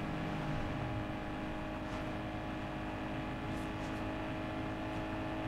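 A car engine revs hard in the racing game Need for Speed Underground 2, a sustained high-RPM whine and drone held steadily, fairly quiet and even, with no spoken voices.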